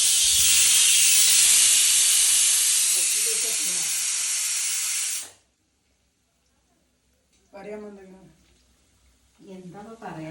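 A pressure cooker whistle blasts loud, sustained steam hiss for about five seconds, then cuts off abruptly; after a pause, voices talk nearby.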